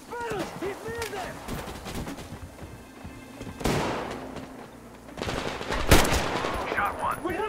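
Rapid automatic gunfire and single shots in the video game Metro Exodus, bursts of fire recurring over several seconds with loud cracks, mixed with shouted voices of soldiers in combat.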